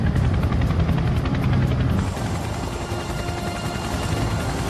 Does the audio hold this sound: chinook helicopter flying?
yes